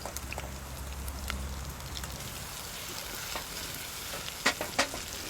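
Shallots and ginger frying in a pot at a campsite, a steady soft sizzle with stirring scrapes and a few sharp utensil taps near the end.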